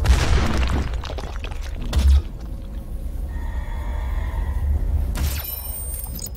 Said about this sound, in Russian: А, мега выстрел какой-то.